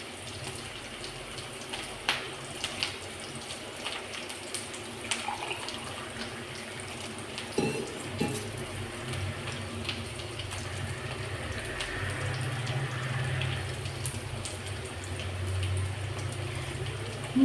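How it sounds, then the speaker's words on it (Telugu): Water poured into a pan of browned onions while making upma, a steady running, hissing pour that builds toward the end and stays at moderate level, with no talking. "ఆనియన్స్ కొంచెం ఏమంటారు గ్రీనిష్గా వచ్చిన తర్వాత మనము వాటర్ అనేది యాడ్ చేసేసుకోవాలన్నమాట"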